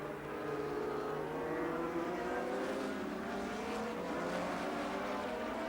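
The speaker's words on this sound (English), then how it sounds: "Meanwhile, Rosberg came steaming up to chase Tambay." Formula 1 race cars from 1982 roar around the Zandvoort circuit in a steady, continuous engine drone, loud and unbroken, blending several cars at a distance with no speech.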